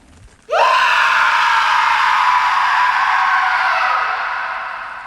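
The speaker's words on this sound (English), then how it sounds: "A scream sounded from behind him." A sudden, shrill scream sound effect in a scary story narration, breaking out of near silence and sustained loudly for several seconds before slowly fading.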